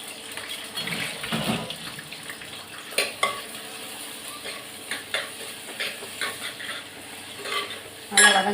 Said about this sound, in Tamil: அந்த வெங்காயமும் கருவேப்பிலையும் போட்டுக்கிறேன்